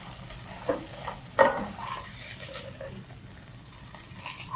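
A pork burger patty fries in a pan for a homemade cheeseburger. Soft sizzling runs throughout, broken by a few sharper scraping and pressing sounds near the start, all fairly quiet and close.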